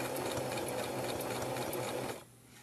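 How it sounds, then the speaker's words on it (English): A sewing machine stitches stretchy fabric for a baby hat with a fast, steady mechanical whirr and rattle that stops abruptly near the end, leaving faint room noise. "I'm keeping the fabric lined up with the edge of the sewing foot here."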